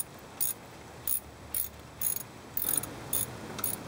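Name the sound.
ratchet tightening the idler pulley bolt on a Jeep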